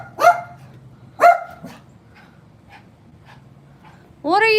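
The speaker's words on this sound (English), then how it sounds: "you're gonna get to see Max, hear him bark and go crazy." Max the dog lets out two loud, sharp barks about a second apart close by, then quieter yips, and a fresh bark or whine starts at the end.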